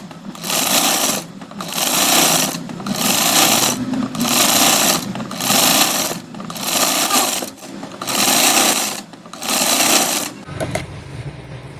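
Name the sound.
sewing machine stitching a double seam on fabric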